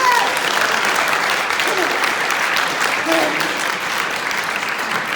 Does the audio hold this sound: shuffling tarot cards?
no